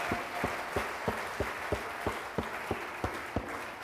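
Congregation clapping hands together in a steady rhythm during church worship, about three claps every second, even and sharp over a noisy room.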